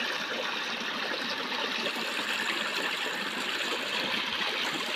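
A forest river flows steadily nearby in an unbroken, even rush of water, with no talking over it.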